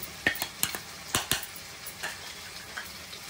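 Spoon stirring ground spices such as homemade Koli masala, cumin, coriander, turmeric and kasuri methi into yogurt in a bowl, a few sharp clinks and scrapes near the start that then fade to soft, sparse taps, close and quiet with no voices.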